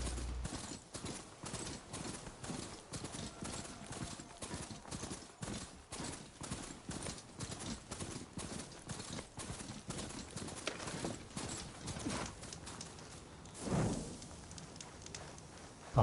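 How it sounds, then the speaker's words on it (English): Horse hooves clip-clopping in a steady rhythm as a mount trots along in the video game Horizon Forbidden West, with faint game ambience underneath and no speech. "I'll park my steed here just in case I end up running into combat."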